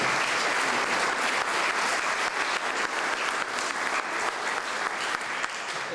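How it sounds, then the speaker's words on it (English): Applause for a student honored at a farm pavilion ribbon-cutting ceremony, a steady, full round of clapping from a gathered crowd that holds even throughout, with little else audible. "So if we could give Mark another round of applause."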